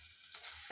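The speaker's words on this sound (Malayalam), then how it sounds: "ചീനിച്ചട്ടി ചൂടായി. നമുക്ക് തേങ്ങ ഇടാം" Grated coconut hits a hot wok and gives a faint, brief sizzle, with soft crackling bursts and no voices.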